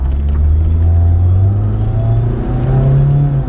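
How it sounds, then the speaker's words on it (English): A flood-damaged Mitsubishi Eclipse spinning its tires, loud engine droning and revving steadily close by with rising pitch over several seconds; no voices heard. "Yeah, she's spinning the tires."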